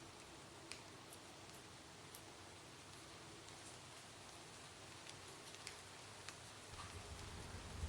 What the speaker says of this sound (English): Now I hear rain, so finally we've gotten a rainy city.